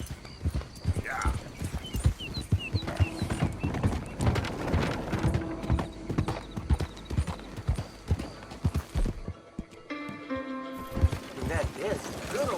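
Horse hooves clip-clop steadily in Red Dead Redemption 2, a close, even trotting rhythm that runs almost the whole time, with a brief whinny and a voice talking over it.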